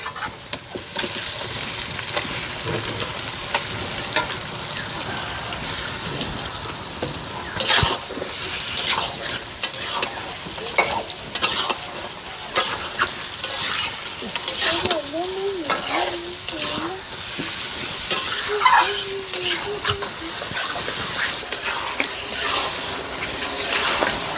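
Marinated meat and potatoes for bamboo biryani fry in oil and are stirred vigorously, with a loud constant sizzle broken by frequent close scraping strokes.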